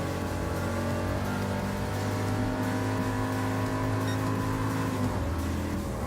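Audi R8 race car engine in Gran Turismo Sport, a steady sustained drone with rising harmonic tones as revs climb gradually, heard close and continuous with no talk.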